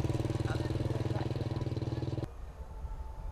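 Motorbikes and farm vehicles pass along a village road beside jam-drying yards, a loud, steady engine drone with rhythmic pulsing that cuts off abruptly, leaving quiet background noise.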